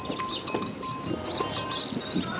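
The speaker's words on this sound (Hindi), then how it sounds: "एक ये सामने राता कलर में बकरी है," A reddish Sirohi goat on a goat farm in India gives short, wavering bleats amid a steady background of farmyard noise and faint clinks, with no one talking.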